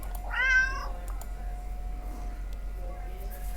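A single short, high meow from a cat in a video game, with a clear tonal harmonic sweep, followed by quiet background hum and a steady electronic tone.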